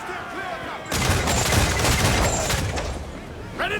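Naval cannon fire in the pirate video game Assassin's Creed IV Black Flag, a loud sustained barrage of booming shots and crackling blasts that starts abruptly and rolls on amid battle noise and shouting crew voices.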